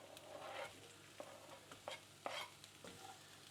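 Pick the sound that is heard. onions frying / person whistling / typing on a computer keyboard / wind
onions frying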